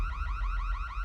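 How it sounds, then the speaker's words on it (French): An electronic alarm warning of presence in a forbidden zone wails alone in a loud, steady, rapidly repeating rising tone, like a car alarm siren. "C'est l'alarme qui indique une présence dans la zone interdite."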